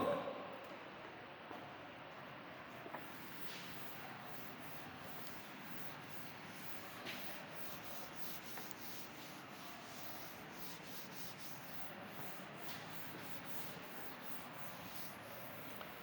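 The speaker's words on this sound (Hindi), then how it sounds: "मैं रब कर रहा हूँ इसको।" A classroom board is rubbed clean with an eraser, a continuous faint scrubbing swish lasting many seconds at low level, with a few soft taps and no clear speech.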